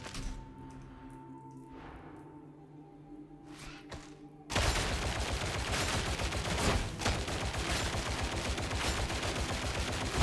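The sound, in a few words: recon lasgun firing in video game Warhammer 40,000: Darktide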